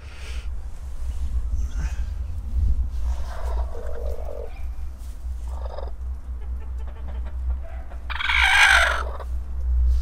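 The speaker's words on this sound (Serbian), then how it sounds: "izgleda da i ove kvocaju" Broody hens cluck in a poultry yard, low steady clucking close by with a louder burst of fowl calls near the end, over a constant low hum.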